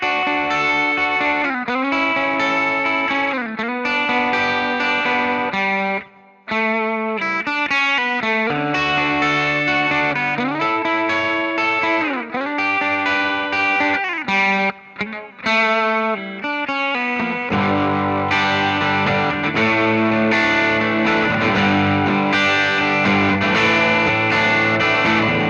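Electric guitar played through a 70s-style chorus effect on an HX Effects pedalboard, a shimmering, wavering tone carrying a steady riff with sustained chords and brief gaps, loud and alone without voices.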